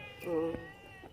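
A single cat meows once, a short, clear, tonal cry close by in a quiet room.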